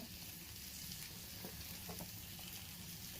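A pot of sardine curry bubbles and sizzles on the stove in a steady, faint wash of popping and hissing that runs without pause, with no talk over it.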